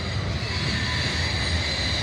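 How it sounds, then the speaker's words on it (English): A loaded coal train passes close by with a dense, steady rumble and rolling wheel noise. The sound stays loud and continuous for the whole stretch, with no talk over it. "The loaded coal train."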